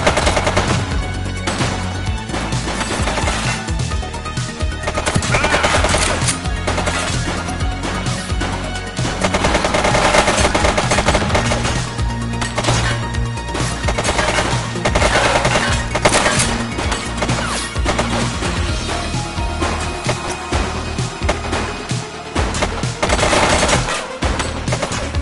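Dense gunfire from The Precinct, a video game, keeps up a loud unbroken barrage of rapid automatic bursts and single shots, layered over impacts, crashes and a low rumbling bed.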